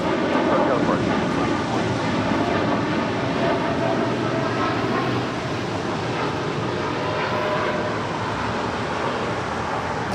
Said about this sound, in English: 787-10 Dreamliner taking off on 25 right here on the south side